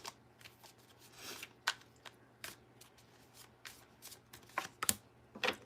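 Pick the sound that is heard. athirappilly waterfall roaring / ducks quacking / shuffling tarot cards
shuffling tarot cards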